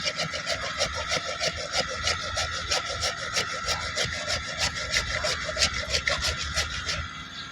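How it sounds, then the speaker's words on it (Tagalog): A hand saw rasps through tree roots in quick, even back-and-forth strokes, close and steady for several seconds before tapering off. "Lagari ang mga ugat."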